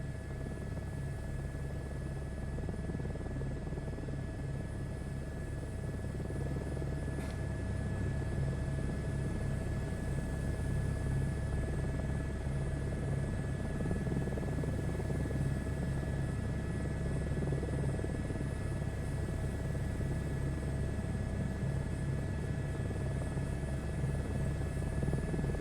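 Helicopter engine and rotor in Microsoft Flight Simulator 2024: a steady, even drone with a constant whine and low beating rotor hum, unchanging and alone for the whole stretch.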